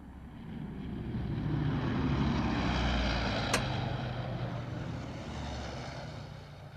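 A propeller airplane drones past, its engine hum swelling and then slowly fading, with a brief sharp click near the middle.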